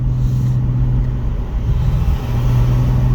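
A Mazda FC RX7 with a turbo, revived after sitting for 12 years, pulls hard in second gear. Its engine makes a loud, steady, close-up drone that rises slightly as it accelerates.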